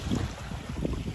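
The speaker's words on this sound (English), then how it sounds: "It is a little windy." Wind gusting across a beach in the rain, a steady low rumbling buffet against the microphone with soft swells and no voices.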